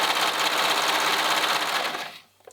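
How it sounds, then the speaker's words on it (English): Serger stitching a side seam to attach a pocket to a romper bodice, a fast steady whirring hum that runs continuously for about two seconds, then stops abruptly into near silence. "I'm just going to sew this side so that the pocket is attached to my bodice"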